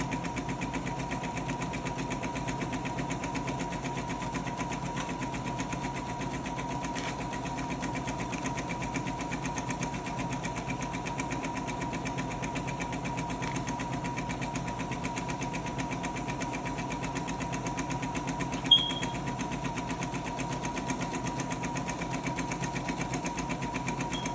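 A sewing machine stitches a fabric bonnet with a continuous, even mechanical hum and rapid needle vibration, steady throughout with one brief faint click near the end.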